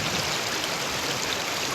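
Flowing water rushes steadily in a dense, even hiss, like a river in New Zealand running over rocks, heard from mid-river, with no voices.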